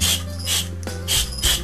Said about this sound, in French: On vaporise un peu partout